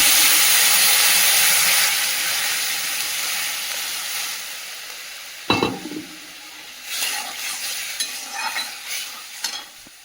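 Water poured into a pan of fried vegetables bursts into a loud, hissing wash of steam that slowly fades, followed by a few stirring scrapes and softer sizzling.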